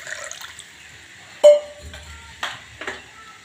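Water is poured into a pot of brinjal and green chilli kadhi, heard as a few short, close splashes and gurgles over quiet kitchen background.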